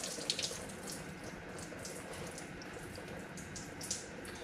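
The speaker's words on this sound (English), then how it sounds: "It sucks I'm getting antifreeze all over my floor." Antifreeze coolant from a 1968 Impala pours steadily onto a garage floor, a continuous close splashing trickle with small drips and spatters and no talk.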